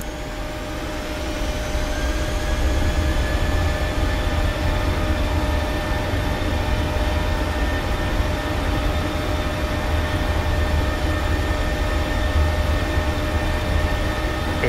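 Jet engines of a PMDG 737-800 in a flight simulator spool up for takeoff, a loud, steady broadband roar with rising whine tones that swells after the first second and then holds constant throughout.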